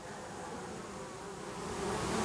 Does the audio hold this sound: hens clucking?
no